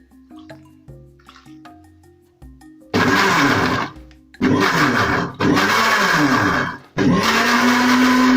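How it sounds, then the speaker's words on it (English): An electric blender purees tomato in four loud bursts of whirring, each stopping abruptly, after a few seconds of quiet tapping and setting up. "I'm going to start off by blending my tomato"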